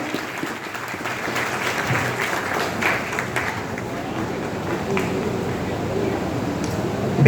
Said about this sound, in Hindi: बहन का भी जोरदार तालियों से स्वागत।